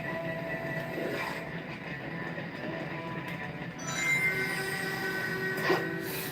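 A train rolling along rails in the video game Sonic 06, a steady faint mechanical rumble with metallic squealing tones that swell louder and sharper toward the end.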